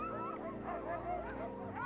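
Greenland dog barking in repeated yips and whimpering bow-wows, steady and close, a sled dog of the far north with no other sounds over it.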